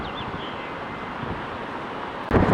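Gusty wind rushes across an open plane-spotting spot near Dulles airport, a steady broadband roar with a faint high whine early on, ending in a loud buffeting blast against the microphone.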